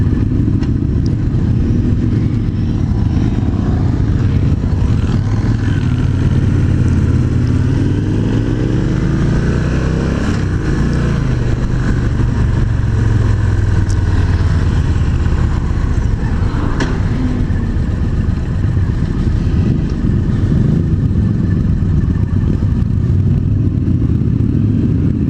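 Stock Victory Cross Country motorcycle engine revving hard uphill to the red line, a loud, close, sustained roar that climbs in pitch with heavy wind rumble and no talking.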